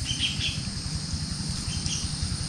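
Many birds chirp and call steadily around a junglefowl trap set in rural farmland, a dense, continuous chorus with insects buzzing low beneath it and no talking.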